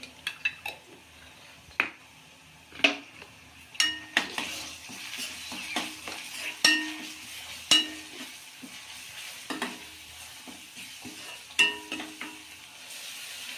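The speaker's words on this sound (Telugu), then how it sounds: "అల్లం వెల్లిపాయ పసుపు కొంచెం నూనెలో వేగితే బాగుంటుందండి" Freshly ground ginger-garlic paste and turmeric fry gently in oil while a spoon stirs and repeatedly clinks against the pan, producing sharp metallic taps over a soft, steady sizzle, with no talking.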